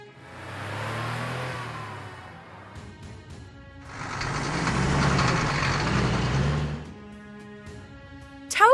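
Ambulance in a monster truck kids video game, heard as two bursts of idling and revving engine noise, the second louder and fuller, ending with a brief bright blip.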